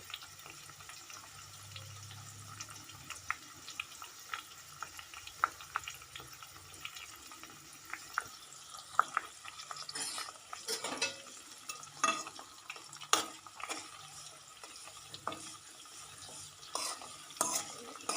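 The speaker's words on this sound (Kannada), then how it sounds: "ಎಣ್ಣೆ ಯೂಸ್ ಮಾಡೋದು ನೋಡಿ ಕುದಿತಾ ಇದೆ" Homemade hair oil boils gently in a pan, giving faint crackling pops and soft bubbling with occasional stirring clicks, quiet and close, with no talking.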